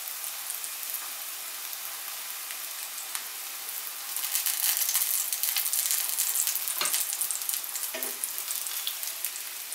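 Zucchini and eggplant slices fry in a pan with a close, steady crackling sizzle that swells louder partway through, with a few soft clatters.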